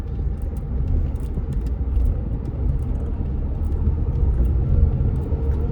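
A 2017 pre-facelift Renault Kwid rolls over a speed bump section, heard from inside as a steady, loud low road and engine rumble with faint rattles and no distinct jolt standing out.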